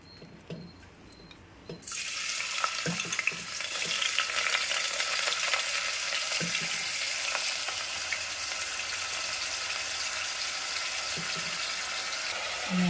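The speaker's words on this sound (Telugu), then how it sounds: "ముందుగా కుక్కర్ పెట్టి ఆయిల్ వేసి ఆయిల్ వేడెక్కిన తర్వాత తరిగి పెట్టుకున్న ఆనియన్స్ మిర్చి వేసేద్దాము" Chopped onions and green chillies frying in hot oil inside a pressure cooker for gongura mutton curry, a loud steady sizzle bursting in after a quiet start and crackling on continuously with occasional stirring clinks.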